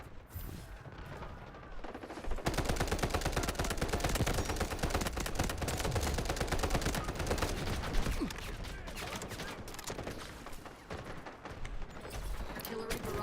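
Video game gunfire fills the scene with dense rapid bursts and crackling volleys at a loud, steady level, sniper shots mixed in, and a voice talking underneath.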